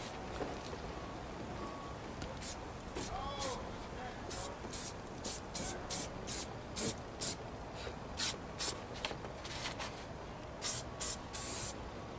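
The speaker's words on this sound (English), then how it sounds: "So let's spray some contact glue." Contact glue sprayed from an aerosol can onto a Chevy truck dash pad, with cardboard nearby to catch overspray: a long run of short, sharp hissing bursts, close and fairly loud, repeating in quick uneven pulses over a faint background.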